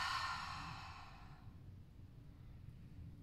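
A long exhale pushed out through the mouth during a Kundalini yoga meditation, a soft breathy rush that fades over about a second and a half into quiet room hiss.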